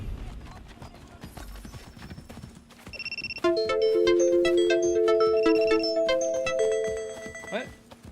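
Horse hooves clip-clop in a steady rhythm within an Assassin's Creed game, joined midway by a loud, bright ringing melodic tone layered over the trotting.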